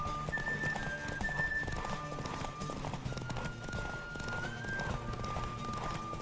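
Steady galloping hoofbeats in The Witcher 3 patter over a dense, continuous backdrop of music and effects, with faint whinnying tones drifting through.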